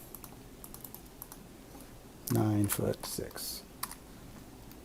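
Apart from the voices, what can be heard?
typing on a computer keyboard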